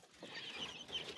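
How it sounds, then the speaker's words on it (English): Chickens clucking in a winter farmstead coop, soft, distant and faint, a few short bursts of clucks at an uneven pace. "Chickens are anxiously waiting."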